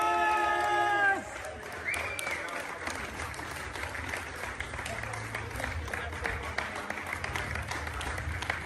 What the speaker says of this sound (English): Big round of applause for Jake Anders